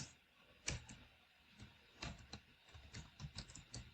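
Quiet, close typing on a computer keyboard at a Windows command prompt, a short irregular run of distinct key clicks with a louder tap near the start and no talk over it.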